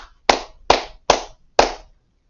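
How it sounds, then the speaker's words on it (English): A single person claps four times at an award presentation, sharp evenly spaced claps close by, each ringing out briefly with no crowd joining in. "And I'm the only one clapping, Nick."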